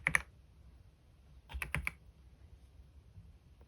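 A few crisp keyboard key clicks, a single tap at the start, then a quick cluster of three or four keystrokes, up close in a quiet room.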